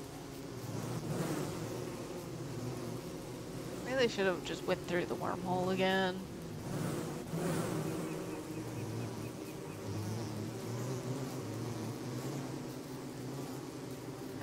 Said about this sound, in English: From all these bees.